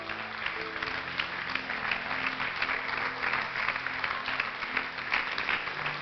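Church congregation in a Spanish-language Christian service applauding steadily and loudly for six seconds, a dense continuous wash of clapping with faint sustained organ or keyboard tones underneath.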